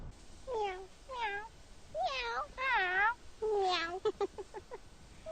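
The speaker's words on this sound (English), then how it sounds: "They're subtitling the little dumb meows they're doing." Cats in the Silent Hill film give a run of distinct, close meows with rising and falling pitch, followed by a few short clipped mews at the end.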